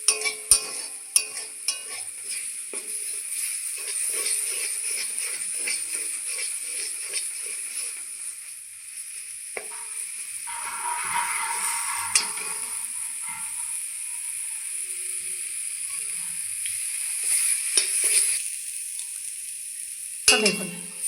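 Radish greens frying in a pan give a bright, continuous hiss and sizzle, with occasional stirring scrapes and clinks throughout, no one speaking.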